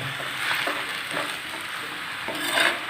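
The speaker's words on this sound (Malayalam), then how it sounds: "നന്നായിട്ടൊന്ന് മിക്സ് ചെയ്ത് അങ്ങോട്ടും ഇങ്ങോട്ടൊക്കെ ആക്കി കൊടുക്കാം." Chicken with onion and pepper stir-fried over high flame, a loud steady sizzle with repeated scraping strokes of a spatula tossing the pieces, close and alone.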